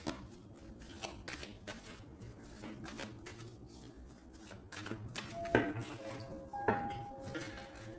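A tarot deck is cut and shuffled by hand, giving soft repeated card rubs and snaps with a couple of brief sharper clicks near the end, faint and close with no talk.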